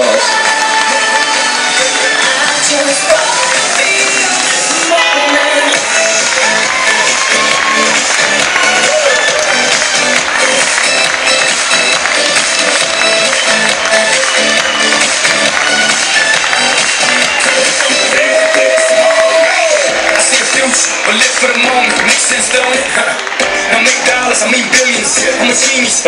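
A dense, loud roar of applause, cheering and shouting from a crowd at a 2014 carnival parade awards in Torrejón, sustained without a break for the whole stretch.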